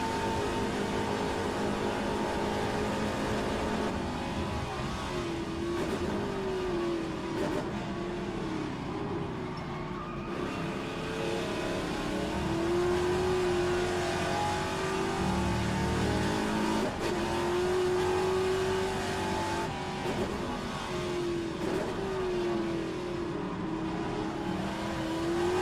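Classic Trans-Am race car at Bathurst on an out lap, its engine droning loud and steady from the cockpit the whole way through, the pitch rising and falling with throttle and gear changes.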